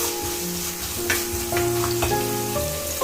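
Ginger and garlic fry in oil for a fish curry, a dense, steady sizzle close up with occasional stirring scrapes layered on top, loud and continuous with no talking.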